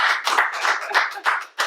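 A small group claps for guest Chef Mika on a talk show, the claps distinct and close, arriving in uneven bursts with brief gaps between them.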